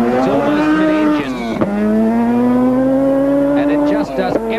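A 1988 Mazda RX-7 rally car of about 300 horsepower, almost mid-engine, climbs a forest rally sprint stage, its loud rotary engine wailing steadily through gear changes with brief dips between pulls.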